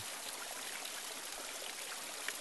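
Spring water running through a gravity-fed farm irrigation line, a soft, steady rushing trickle that stays even throughout, faint and with no voices.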